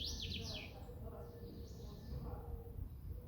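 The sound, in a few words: birds singing outdoors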